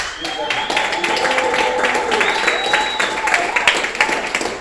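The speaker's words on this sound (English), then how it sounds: "let's give a round of applause to the owners of this beautiful establishment in our neighborhood, Mr. and Mrs. Palmer" Applause breaks out for the owners of a neighborhood establishment, Mr. and Mrs. Palmer, at a public gathering in Newark, New Jersey. Steady clapping fills the room while voices carry underneath throughout.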